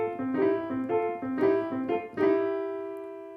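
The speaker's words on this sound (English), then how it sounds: "Okay, so lick number 4, this is super cool, and it's a bit more of just a variation on the chords of the 12-bar blues." Blues piano lick based on the Mixolydian scale, a short variation on 12-bar blues chords: a quick run of repeated plucked notes and chord stabs, ending on a held chord that rings and decays, played alone.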